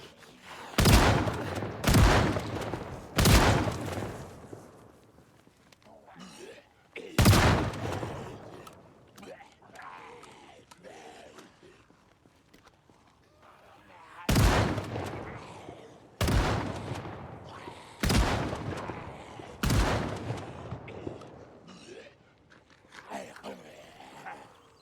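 Gunshots from a first-person shooting scene, roughly a dozen sharp, loud reports fired singly and in quick pairs at irregular intervals, with a voice talking between the shots.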